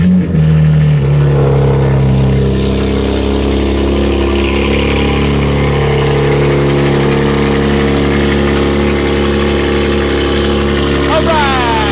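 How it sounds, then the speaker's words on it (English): A family sedan fitted with a big turbo cold-starts with a loud cranking burst, then settles into a steady, rumbling, high idle, while a person talks nearby. "let's get a little cold start"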